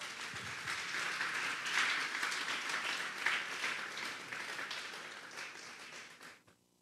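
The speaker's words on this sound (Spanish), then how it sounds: "Denle un fuerte aplauso pues al Señor" Church congregation applauding during a Bible study service, a sustained wash of clapping from many hands at moderate distance that fades out toward the end.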